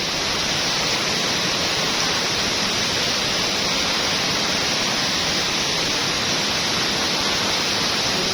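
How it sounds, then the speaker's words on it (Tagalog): Aliwagwag Falls, a waterfall, roars in a steady, dense broadband rush that stays loud and unbroken throughout, with no voices. "Aliwagwag Falls"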